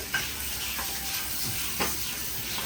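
Onion, chili and ginger-garlic paste frying over a low flame in a pan, a soft steady sizzle with a few scraping stirs of a spoon, quiet and close.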